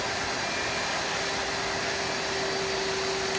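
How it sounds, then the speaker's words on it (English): W2000/2 wet vac with pre-separator pump running at full power, a steady loud broadband whoosh with a constant whine, continuous and close throughout with no talk. "you can see the tremendous power that the pump has"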